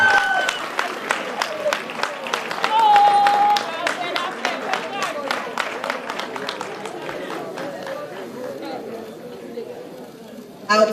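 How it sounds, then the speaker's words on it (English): Applause from an award ceremony audience greeting the winner of an economic reporting prize, many hands clapping in a dense, steady patter that lasts throughout, with crowd chatter mixed in. "Please give him a one round of applause"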